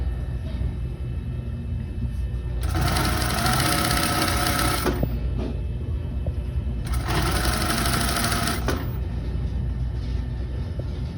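A sewing machine stitches stretchy fabric for a blanket coat in two bursts of fast, loud whirring that start and stop abruptly, over a steady low background hum.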